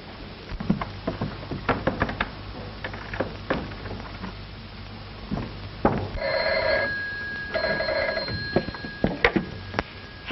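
A 1930s telephone in use: scattered clicks and knocks of the handset and dial, then two bursts of a ringing bell tone midway, moderately close, with no voices.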